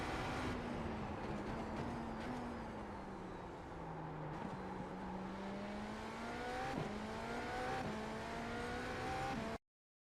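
A GTP prototype race car in iRacing at The Bend drones at full speed with a steady engine whine that rises and dips through gear changes, sustained and close until it cuts off abruptly.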